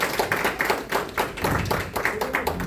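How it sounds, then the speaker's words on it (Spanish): A congregation at a Bible study gathering claps, giving itself a warm round of applause, with uneven overlapping hand claps in bursts and a few voices audible underneath. "Si ya somos de casa, de todas formas hay que darnos un aplauso"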